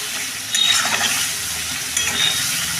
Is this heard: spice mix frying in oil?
yes